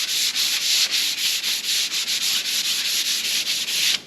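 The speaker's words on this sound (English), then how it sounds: "sand them down" Stacked wood boards are sanded by hand with 400-grit sandpaper in brisk back-and-forth strokes, a loud, close, rhythmic scratching that repeats about four times a second with no talking.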